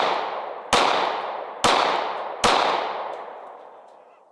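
Three sharp gunshots from a Glock pistol that spent 100 days buried, fired outdoors toward a dirt berm, spaced roughly a second apart, each loud crack followed by a long decaying echo, with no talking.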